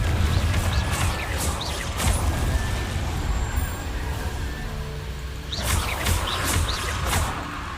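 A Confringo blasting spell goes off in Hogwarts Legacy. Dense, loud crashing impacts and rumbling are topped by bright crackling bursts near the start and again around the middle.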